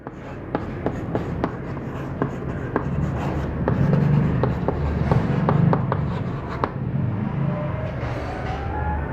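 Chalk or marker writing on a board during a chemistry lesson on haloalkane naming, a run of sharp taps and scratchy strokes in quick bursts under low background noise, with no talking.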